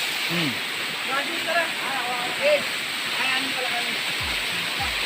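Labi Falls, a waterfall, roars as a loud, steady broadband wash of falling water, with voices talking briefly over the continuous rush.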